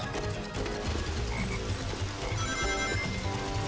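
Frog croaking in the Sonic Heroes video game's Lost Jungle stage, a loud, continuous stretch of deep, buzzing croaks over game sounds, with no speech.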